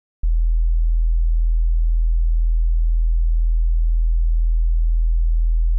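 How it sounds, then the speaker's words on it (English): A pure low sine wave tone starts abruptly after a brief click and holds steady and loud, unchanging and alone, for the rest of the stretch. "What you're left with is the simplest form of a sound wave called a sine wave."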